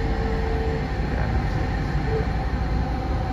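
A Delhi metro train sits at a station, a steady loud rumble and hum of the carriage with a faint tonal whine and no clear speech.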